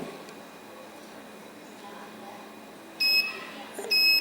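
A multimeter sounds its continuity beep while probing a coil on a mobile phone board: two short, clear high-pitched tones near the end, close and steady over a quiet hiss.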